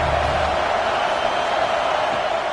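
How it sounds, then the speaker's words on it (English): A large stadium crowd roars at an Oregon college football game, a steady, loud wash of massed voices filling the whole stretch without pause. "This crowd bringing the energy and noise early."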